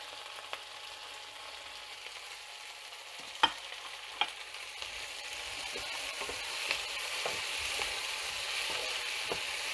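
Mixed vegetables for a homemade Spanish paella fry in a pan with a soft, steady sizzle, broken by a few sharp utensil scrapes and taps of stirring.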